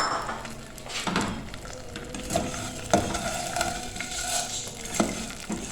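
Half a packet of vermicelli fries in ghee for a custard saviyan dessert, giving a close sizzle broken by intermittent scraping and clicking stir strokes, with no talking.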